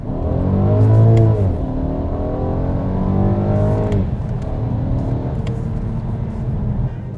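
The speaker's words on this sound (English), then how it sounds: "it only gets better as you rev it up to redline" A 2018 Volkswagen Passat GT's V6 engine with a retuned exhaust revs loudly and steadily toward redline, its pitch climbing and dropping with a throaty exhaust note, no voices over it.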